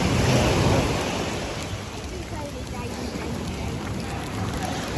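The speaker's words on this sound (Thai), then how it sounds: "ตอนนี้ฝนก็ตก ตกหนักมากนะครับผม" Heavy rain pours down in Krabi, making a dense, steady hiss that stays loud and even through the whole stretch, with no clear voices over it.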